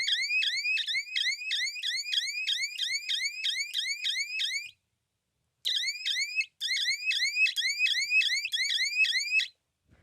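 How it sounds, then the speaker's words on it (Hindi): A Jhatka animal repellent machine sounds its electronic siren in a crop field, a loud, rapid rising warble repeating continuously. It cuts out for about a second, chirps briefly, and then resumes. "जैसे ही टच होगा वैसे ही यहाँ पे आपका सायरन बज जाएगा"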